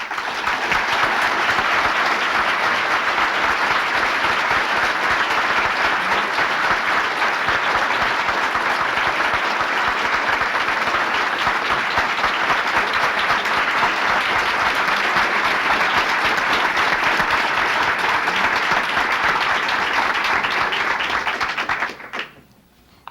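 A City Club audience at a 1982 Oregon gubernatorial candidates' debate gives a long, steady round of loud applause that fills the room for over twenty seconds, then stops abruptly.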